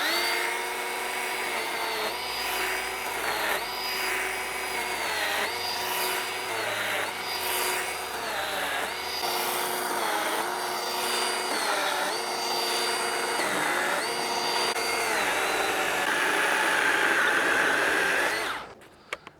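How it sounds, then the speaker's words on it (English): A Milwaukee M12 hatchet, a small battery chainsaw, whines steadily, its pitch dipping repeatedly as it bites into wood, running close and continuous before cutting off abruptly at the end. "Let's start off with the baby of the bunch, the M12 hatchet."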